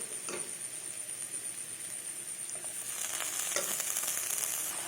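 Spices and bhujia frying in a pan for an egg tarka dish, a steady high sizzle with scattered stirring scrapes that grows slightly louder and busier toward the end, with no talking.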